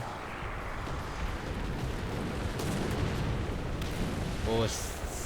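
Artillery shells exploding around a tank in the War Thunder video game, a continuous heavy rumble of blasts and battlefield noise, loud and dense, with a brief sharper burst near the end.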